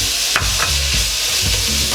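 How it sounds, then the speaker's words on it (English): Onion added to oil in a pan with browning ground beef for a one-pot Tex-Mex enchilada casserole, giving a steady close sizzle with stirring scrapes throughout, no voices. "Now I'm gonna add my onion."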